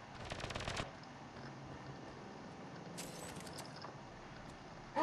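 Gunfire rings out in the video game Mass Effect: Andromeda, a rapid burst of shots near the start, then a low hum and another brief crackle of fire partway through, fairly faint overall.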